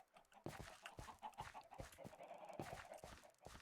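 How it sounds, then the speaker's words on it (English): Chickens clucking in Minecraft Education Edition, a flock of spawned birds giving soft, overlapping clucks and small scuffling steps, faint and close together with no talk. "100 chickens just spawned."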